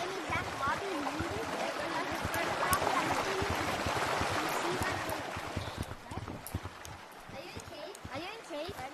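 A river flowing in Gorilla Tag, a continuous burbling trickle of water with splashy texture, mixed under players' overlapping talk and tapping noises.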